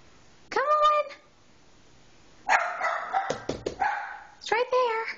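Tucker, a big dog being coaxed off a bed, gives a short whining yelp, then a longer run of whines, yips and barks, loud and close, mixed with a person's speech.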